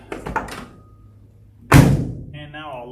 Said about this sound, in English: Locked and unlocked.